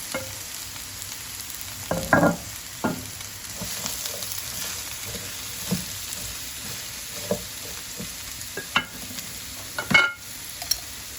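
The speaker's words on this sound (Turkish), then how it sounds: "Tencere yağımı ekledim. Soğanımı kavuracağım." Onions sauté in oil in a pot for a lentil and rice pilaf, giving a steady soft sizzle with occasional clinks and scrapes of stirring. No one speaks.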